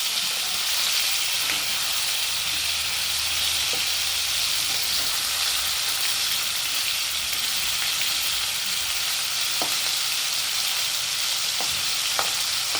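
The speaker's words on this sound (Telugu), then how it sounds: "వీటిని ఇలా రెండో వైపు కాలుస్తుంది ఇలా వేగనేయాలి" Chicken pieces for chilli chicken frying in a pan, being browned on their second side, giving a continuous dense hiss and sizzle with occasional sharp pops, close and steady with no voices.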